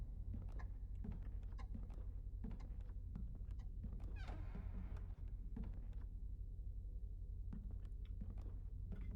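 A cat in a video game demo gives one short meow midway through, over steady background ambience and scattered small clicks and taps.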